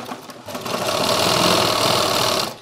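Sewing machine running a continuous burst of stitching along a long jacket's shoulder seam, a fast steady whir close up lasting a couple of seconds, alone with no talk.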